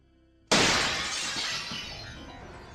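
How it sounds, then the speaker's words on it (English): A bedroom window shatters in one sudden, loud crash, after a second of near silence, followed by a long bright tinkling of falling glass fragments that slowly fades. "I woke up to the sound of my window shattering."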